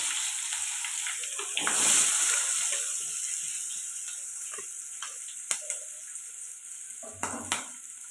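Chopped green chillies and onions dropped into hot oil for egg pulusu, a bright sizzle that swells early then fades to a quieter hiss, with sharp stirring taps and clicks later on, no speech.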